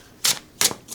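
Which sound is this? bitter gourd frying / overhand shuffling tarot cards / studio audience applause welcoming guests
overhand shuffling tarot cards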